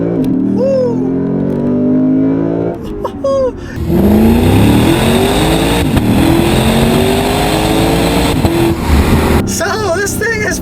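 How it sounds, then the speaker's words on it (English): A 2016 Lexus GS F with a 5-liter V8 revs and accelerates hard along a back road, its engine note climbing in long sweeps, sometimes under excited voices. "That's got a glorious 5-liter V8 engine"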